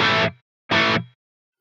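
Two short, heavily distorted electric guitar chords through a Line 6 Pod Go with no reverb, each cut off dry into silence.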